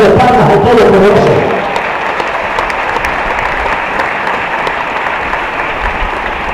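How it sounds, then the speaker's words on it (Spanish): A church congregation breaks into loud applause that fills the space, the clapping strongest at the start and then easing into a steady, slightly lighter patter that continues to the end. "Yo le doy una ofrenda de palmas a todos los poderosos."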